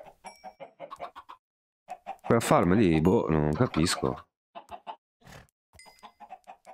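Minecraft chickens cluck in quick bursts at the start and end around a man's speech, with a louder tonal sound in the middle.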